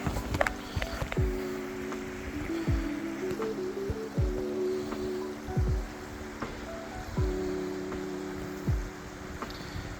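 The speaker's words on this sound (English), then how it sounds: "Look at that waterfall" A waterfall and small streams run as a steady rushing wash of water, broad and continuous, with a few brief knocks and scrapes layered on top; nobody speaks.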